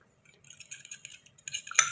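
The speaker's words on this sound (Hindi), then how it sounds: "इसको आपने अच्छे तरीके से कर लेना है मिक्स" A spoon mixing egg breakfast batter with chopped coriander leaves in a bowl, giving light irregular clinks and scrapes that end in a sharper clink, close and fairly quiet.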